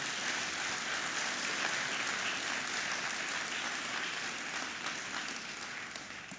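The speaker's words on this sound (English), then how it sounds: "Let's give him a round of applause" A press luncheon audience applauds with dense, sustained clapping that holds steady, then gradually fades near the end.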